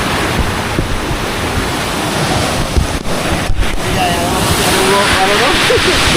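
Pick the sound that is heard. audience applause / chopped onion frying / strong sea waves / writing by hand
strong sea waves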